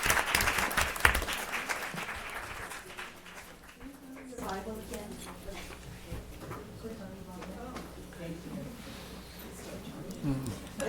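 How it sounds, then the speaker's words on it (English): An audience claps at a 2024 swearing-in ceremony. Dense clapping swells for about four seconds, then thins out under a voice speaking over the room. "Can we have a round of applause?"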